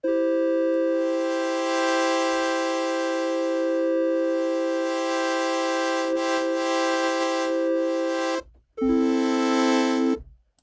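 A bright, buzzy wavetable tone in the Porphy synth holds steady while its timbre gradually morphs, then cuts briefly and returns at a lower pitch; no voices.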